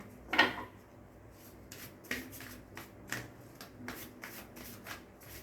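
A deck of cards shuffled on a table: a crisp riffle burst near the start, then several softer, evenly spaced shuffling strokes, close and fairly quiet with no talking.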